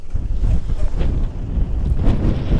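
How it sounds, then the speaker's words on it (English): Wind gusting into the microphone on a boat during a bass fishing trip, loud continuous low rumble and buffeting with no clear talking. "Don't worry, Charles, that wind ain't going nowhere."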